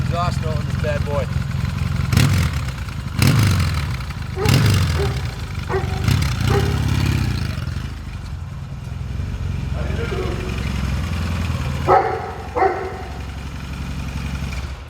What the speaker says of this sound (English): This is the exhaust note on this bad boy.